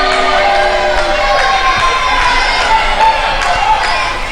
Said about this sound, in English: And now Tyson Dux asking to hear the crowd.